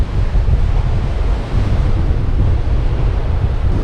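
Strong wind buffets the microphone on an empty beach at Canaveral National Seashore, with steady surf rolling underneath in a loud, continuous roar.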